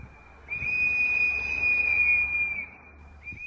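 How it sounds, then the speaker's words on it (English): Outside a hospital at night, mourners blow whistles: a steady, piercing high tone held for about two seconds, followed by a shorter blast, with faint crowd murmur underneath. "they laid flowers and then blew whistles in an act of defiance"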